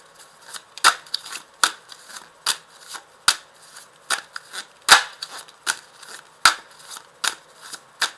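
Tarot cards being shuffled and drawn, a quick, close series of crisp flicking snaps and riffles spaced irregularly across the stretch, with no talk over them.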